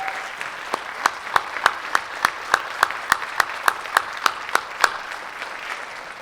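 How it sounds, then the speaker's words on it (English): An audience at a summit session gives a round of applause: regular rhythmic clapping, apparently a few hands nearby, steady sharp claps that stop near the end. "So please stand up and accept a round of applause"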